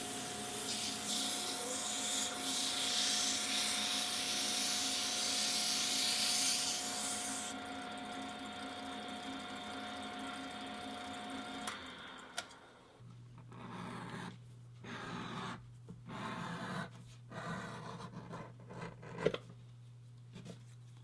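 A Weaver Power Edge Slicker sands the uneven edges of a leather bag, a steady hissing motor whine with a high rasp that cuts out partway, leaving a lower hum and light handling taps.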